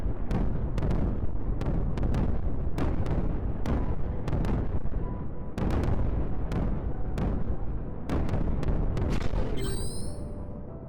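Repeated booming mining cannon blasts from the video game Creeper World 4 fire in an irregular rhythm over a constant rumbling din, loud and close, with a rising electronic whine near the end.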